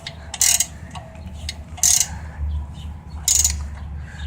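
Gear wrench ratcheting on a Triumph Daytona motorcycle's oxygen sensor, three crisp bursts of rapid clicking about a second and a half apart, close and distinct over a low background hum.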